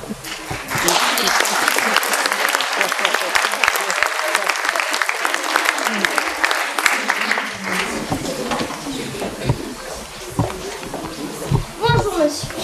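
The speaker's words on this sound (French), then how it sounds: "Je vais appeler sur scène sous vos applaudissements." An audience at a magic show on stage at a 2013 musical comedy claps loudly and steadily, dense applause filling several seconds before thinning out as voices come in.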